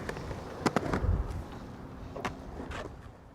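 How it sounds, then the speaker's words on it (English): Skateboard wheels and deck sounds at the Wedge Skate Park in Scottsdale, with a few sharp clacks and board slaps over a steady rolling rumble and outdoor background noise, no talking. "That was Ben Duffy skateboarding at the Wedge Skate Park in Scottsdale"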